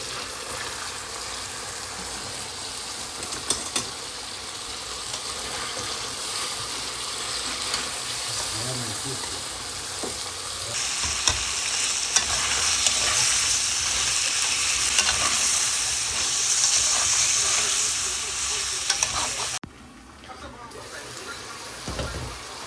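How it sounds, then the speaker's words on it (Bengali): Hilsa fish being browned with spice paste in a pan, a steady sizzle with stirring scrapes throughout, growing louder midway before a brief drop near the end. "এখানে হচ্ছে মশলা কষিয়ে মাছটাকে দিয়ে কষিয়ে নিচ্ছি"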